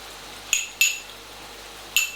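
A metal spoon clinks against a pan while flour is stirred into minced beef pie filling: three sharp, bright clinks spaced apart over a quiet background.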